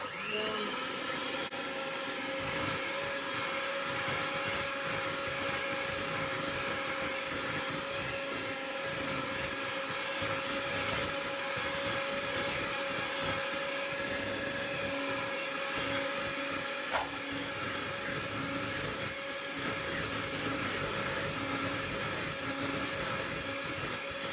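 An electric mixer beats cupcake batter as eggs are slowly added, a steady, loud motor whine with a constant pitch that runs unbroken for the whole stretch without talk.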